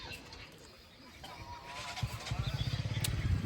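Two motorbikes start at the same moment: a rough idle builds into a close, rhythmic engine putter that grows louder, with faint background voices and bird calls.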